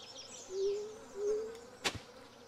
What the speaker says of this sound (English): There's a lot of bugs buzzing around now.